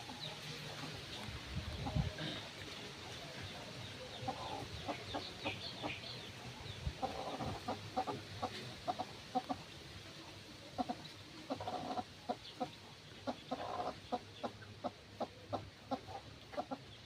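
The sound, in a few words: chickens and chicks clucking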